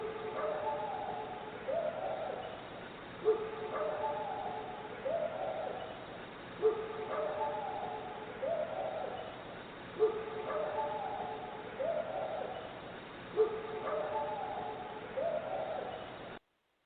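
A forest recording from the Uwharrie area holds dog-like barks and calls from an unknown animal. The distant, faint calls repeat in bursts about every three seconds, five times in a row, with no talk.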